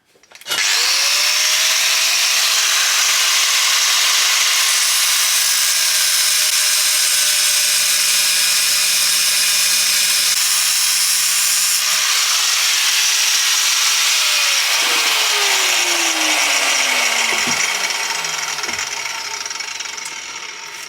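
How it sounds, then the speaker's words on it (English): Angle grinder cutting through a Porsche 928 exhaust pipe, a loud continuous high-pitched whine with shifting pitch as the disc bites into the metal, then spinning down near the end. "I've got an angle grinder, so hopefully that'll get it through here."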